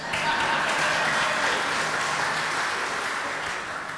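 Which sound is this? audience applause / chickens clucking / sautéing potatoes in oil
audience applause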